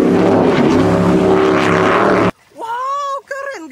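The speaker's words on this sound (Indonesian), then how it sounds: "semuanya ini speedboat" Several speedboats approach in a video game, their loud, buzzing engine drone filling the first two seconds before it cuts off abruptly and a voice takes over.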